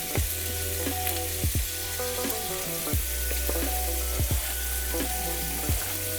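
Shrimp and garlic sizzle steadily in a hot pan, a loud continuous crackling hiss with occasional scraping stirs and faint clinks, with no voice over it.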